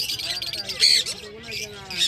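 Zebra finches at a bird market give repeated high squawking calls with brief sharp peaks, close by, amid a busy background of other caged birds.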